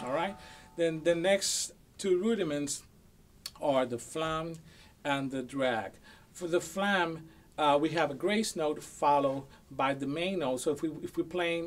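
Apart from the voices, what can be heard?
No distinct noise like a dog, phone or traffic.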